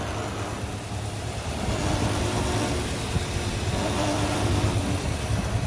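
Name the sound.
1966 Dodge Coronet engine running after 20 years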